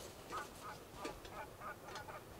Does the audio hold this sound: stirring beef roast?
no